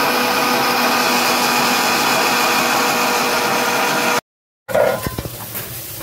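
A mixer grinder whirring as it grinds roasted whole spices such as black pepper and cardamom into a paste, a loud steady motor drone that cuts off abruptly, then restarts with a few jolting pulses.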